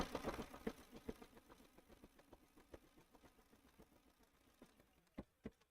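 A sewing machine stitching up a tote bag runs in quick, faint mechanical bursts, pausing and restarting with uneven rhythm before a few louder thumps near the end.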